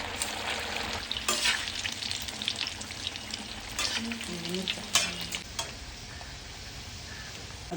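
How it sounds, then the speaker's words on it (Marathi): Sabudana vadas deep-frying in a pan of hot oil, a dense continuous bubbling sizzle with occasional stirring clinks, close by, with no talking. "आता आपण याचे वडे करून घेऊ आणि तळून घेऊ।"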